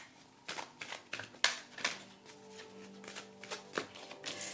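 Oracle cards being shuffled by hand at close range, a series of crisp riffling bursts and soft slaps repeating irregularly without talk.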